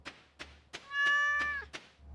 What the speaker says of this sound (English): I just heard my cat.